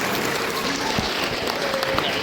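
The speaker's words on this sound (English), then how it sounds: "A big round of applause for all our leaders who are winners." Audience applause at a school spelling bee competition at St Alphonsus School in Kurseong, a dense, continuous wash of clapping filling the hall for a couple of seconds, with voices mixed in.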